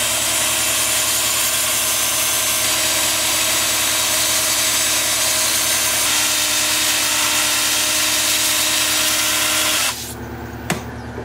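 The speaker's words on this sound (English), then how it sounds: "Now I'll do the rest of this with a 2-inch sanding disc." A 2-inch sanding disc on a power tool grinds steadily against a live-edge paper birch change dish, a loud continuous whine that cuts out abruptly near the end, leaving quiet hum and a brief click.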